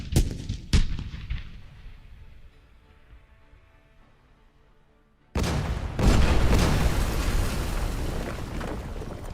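Heavy artillery guns firing in a World War city builder game: a few deep booming blasts with long rumbling decay, then a dense, loud barrage of overlapping cannon fire that continues without a break.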